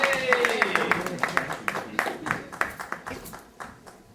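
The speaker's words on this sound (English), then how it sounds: "give yourself a big round of applause" Audience at a comedy tour event applauding in a room, a steady patter of claps that rises and then tapers off over a few seconds, with a voice briefly audible near the start.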